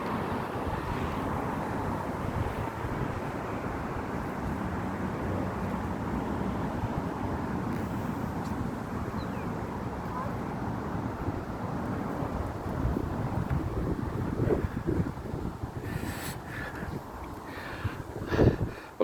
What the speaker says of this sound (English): You can hear the sounds of Boeing aircraft.